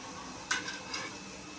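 Matki (moth bean) cutlets fry in a pan, giving a soft, steady sizzle with a single sharp clink of a utensil against the pan and a fainter scrape shortly after.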